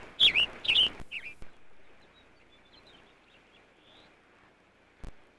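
Birds chirp and call in cottonwood wetlands beside irrigated alfalfa fields, a few sharp, close tweets bunched in the first second, then a quiet, faintly rustling background with one brief click near the end.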